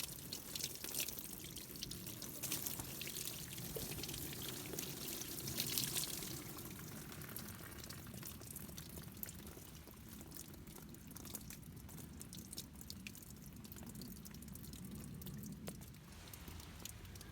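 Water pours and splashes over a slab of wind-damaged red maple crotch wood on an outdoor sawmill, a continuous soft wash with scattered drips and trickles lasting many seconds, fairly faint and free of talk.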